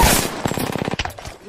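Rapid automatic gunfire bursts in Apex Legends, a tight string of loud close shots rattling off in quick succession before tapering into a brief pause.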